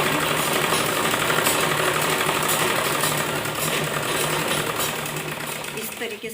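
A sewing machine stitches salwar fabric in a loud, continuous, rapid whirring run that lasts throughout, very close, with a voice faintly under the motor.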